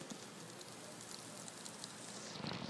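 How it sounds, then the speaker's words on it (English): Heavy rain pours down in a dense, continuous hiss of countless drops striking surfaces. The downpour is steady and even throughout, swelling slightly toward the end, with no voices. "Oh my god, it is pouring."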